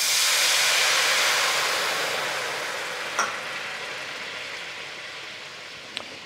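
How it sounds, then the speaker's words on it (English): White wine poured into a hot pan to deglaze it after cooking shrimp and bacon, a loud broad sizzling hiss that slowly fades, with a couple of faint knocks, and no talking. "now what we're going to do is deglaze our pan. So we're just going to add our white wine."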